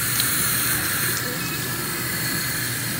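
Tap water runs steadily into a sink that is filling toward overflowing, a continuous close hiss and splash with no pauses.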